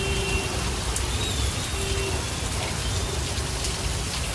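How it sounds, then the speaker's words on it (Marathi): Heavy monsoon rain pours down outdoors at a market, a loud, dense, unbroken roar of drops hitting surfaces, steady throughout with faint background tones and no clear speech. "इतका पाऊस पडतोय भयानक."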